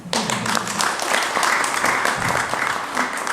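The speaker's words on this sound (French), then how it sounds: "Est-ce qu'on peut applaudir?" Indoor audience applause at a press conference in Brussels City Hall: a full, steady burst of many hands clapping, sustained evenly from start to finish with little else audible.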